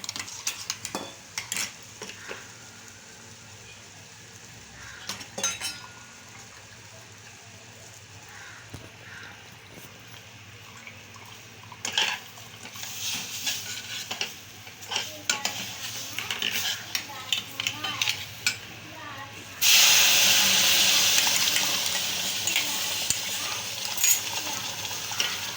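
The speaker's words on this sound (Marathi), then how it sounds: "मिक्सरचं भांडं धुवून पाणी घालू याच्यात." Water rinsed out of a mixer jar is poured into a hot pan of roasted semolina and mango for mango shira. Scattered clinks of utensils come first, then a loud, sustained hissing rush fills the final stretch.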